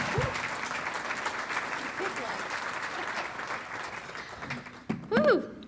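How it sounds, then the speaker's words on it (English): Audience applause at a county Teacher of the Year awards event, a dense, sustained wash of clapping from a large crowd, ending with a brief cheer and voice. "Please give a round of applause for Miss Guarienti."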